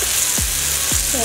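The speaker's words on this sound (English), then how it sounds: "And I'm going to fry it in high flame." Pomfret fish fries on a tawa over high flame with a constant, close hiss of sizzling oil, and two quick low swooshes cut through it.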